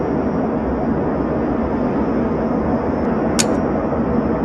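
Airplane engine sound from the Pocket Planes mobile game: a steady, loud, unbroken drone with a faint brief click partway through.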